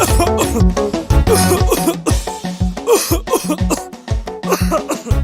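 Repeated harsh coughing in a herbal throat lozenge advert, a rapid series of loud, close hacking coughs with brief gaps between bursts.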